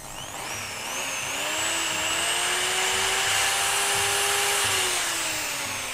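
Makita or Hitachi hammer drill running on its own near the microphone, a loud steady high-pitched whine that rises and holds with a gently wavering pitch, no speech over it.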